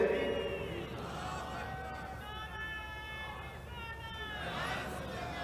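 An audience at a religious gathering commemorating the martyrdom of Ali chants a slogan together, a sustained massed roar of voices swelling and easing over several seconds, moderately distant.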